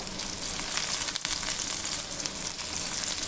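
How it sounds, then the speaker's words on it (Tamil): Bread slices shallow fry in a pan of oil, a continuous soft crackling sizzle with a brief dip near the middle, heard alone. "இன்றைக்கி நான் வந்து ஷாலோ ஃப்ரை தான் பண்ணுறேன்."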